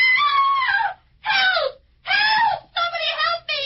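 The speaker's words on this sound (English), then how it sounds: "Scream." A woman screams in an old-time radio detective drama, four or five loud, high sustained shrieks separated by short gaps, close and dominating the scene.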